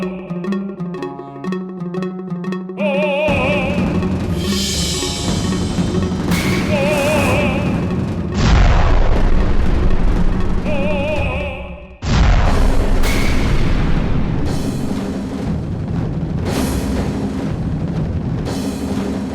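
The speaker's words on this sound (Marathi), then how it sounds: "इथं तोफेचा गोळा येऊन पडलाय" Cannonball landing and exploding nearby, heavy booming blasts amid loud, dense battle-like noise that cuts off abruptly and resumes, following a quiet musical opening.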